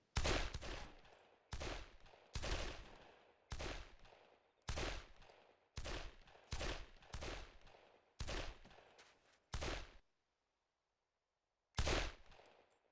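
Video game gunfire at a shooting range: about a dozen sharp, loud shots in an irregular rhythm, some in quick pairs, then a pause before one final shot.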